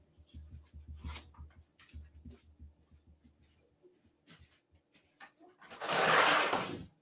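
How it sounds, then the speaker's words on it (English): A dog barks a few times outside a homestead door, with short broken calls early on and a louder, harsher burst near the end. "I got another dog in my ear."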